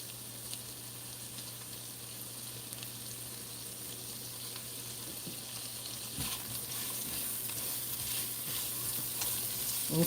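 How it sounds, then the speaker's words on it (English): Onions fry in a pan for Salisbury steak, giving a faint, steady sizzle that swells slightly toward the end. "You see how the onions are browning and they're starting to get a little soft."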